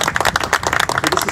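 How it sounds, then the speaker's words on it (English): An audience claps at the awards for a college drone competition, with a quick, uneven patter of hands that sounds fairly close and lively, briefly and with no voices on top. "A big round of applause for everyone there."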